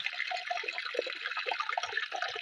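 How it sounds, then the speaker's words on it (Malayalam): Roasted rice is swished and rinsed in water in a pot, making a continuous close sloshing and bubbling wash with small liquid splashes throughout. "അപ്പോൾ വറുത്ത അരി ഒന്ന് കഴുകിയെടുക്കണം"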